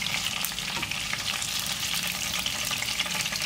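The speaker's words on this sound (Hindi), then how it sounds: "इसी तरह से और भी फ्राई कर लूंगी मैं" Raw minced-meat kebabs fry in oil, producing a constant, busy crackling sizzle, loud and close, with no one speaking.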